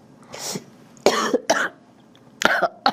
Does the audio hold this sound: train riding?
no